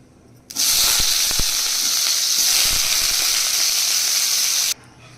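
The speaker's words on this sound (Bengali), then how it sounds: "এখন আলুগুলো আলাদা করে ভেজে নেব।" Potatoes hit hot oil with a sudden loud hiss that holds steady for about four seconds, then cuts off abruptly.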